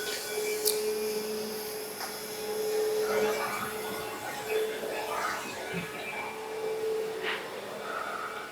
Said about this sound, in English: let's watch this machine in action and see how it does